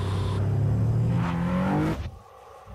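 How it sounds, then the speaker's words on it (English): Infiniti G Sedan or Coupe V6 engine revving, a loud rising mechanical whine and rumble that climbs steadily in pitch and then cuts off abruptly to near quiet. "The Infinity V-Vel engine creates more power using less fuel."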